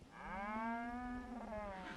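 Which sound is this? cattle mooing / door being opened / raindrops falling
cattle mooing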